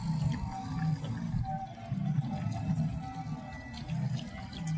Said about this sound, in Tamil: வாட்டரை ஊற்றுவோம்.